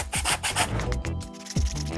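Sandpaper rubbing over the corner of a handmade wooden picture frame, a close, steady series of rasping back-and-forth strokes with no talking.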